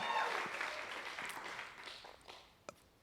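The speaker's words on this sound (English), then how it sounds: "I hope you heard the voices of all of the people here standing and cheering." Conference audience standing, applauding and cheering, a broad clapping wash that fades over three seconds and ends with a few scattered claps.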